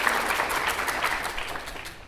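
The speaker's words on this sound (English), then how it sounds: "If you'll give them a big round of applause" Crowd applause at a school district State of the District event, a dense, steady wash of many hands clapping, moderately loud and continuous, easing slightly toward the end with no speech over it.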